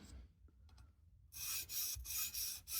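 A knife blade rubs over a sharpening stone on a Tsprof Pioneer guided sharpening system, a quiet start giving way to rhythmic raspy strokes back and forth, close and alone.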